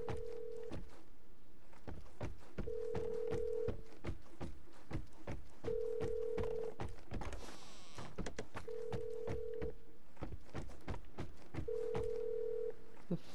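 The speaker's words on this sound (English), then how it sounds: "The phone, what's this phone doing?" A telephone in the video game Vigor rings in regular repeating bursts, five evenly spaced tones over about thirteen seconds, threaded with frequent sharp clicks and thumps, moderately loud with no talk.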